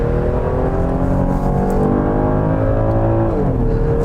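A 2017 Buick LaCrosse pulls away from a standstill on a 0-60 run, its engine droning loudly from inside the cabin with a steady rise in pitch and a smooth upshift near the end.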